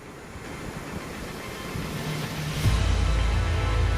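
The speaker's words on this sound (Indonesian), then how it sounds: "Tiupan angin yang semakin kencang" Strong wind buffets across Gunung Mananggel in Cianjur, a broad roaring rush that swells into a heavier low gust near the end, loud and close with no voices.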